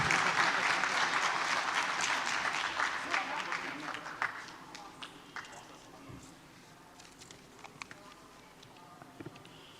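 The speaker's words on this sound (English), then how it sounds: "Please join me in welcoming him with a thundering round of applause." A crowd applauds loudly at first, the clapping thinning and fading over several seconds until only a few scattered claps remain.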